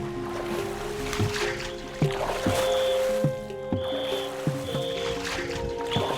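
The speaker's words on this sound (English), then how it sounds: "The boat is making its way down the river." A boat travels along a river in China, with steady engine hum, water noise and occasional knocks and splashes, no talking.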